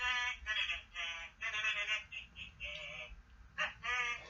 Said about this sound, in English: Is that like a ringtone?